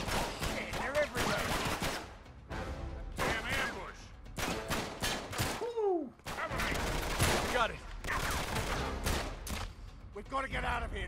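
Sniper gunfire in the Uncharted 3 video game, set in the London Underground: repeated sharp shots and blasts crowd together in a loud, busy firefight that runs throughout.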